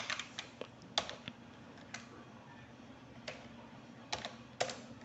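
Sparse keystrokes on a computer keyboard while entering a spreadsheet formula, a few soft separate clicks with gaps between them, quiet and close, with no talk.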